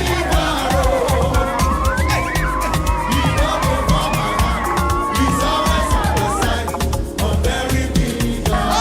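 A large, dense crowd on a Madagascar beach at sunset gathers for baptisms, chattering and cheering loudly and continuously, with whoops and shouts rising above the din.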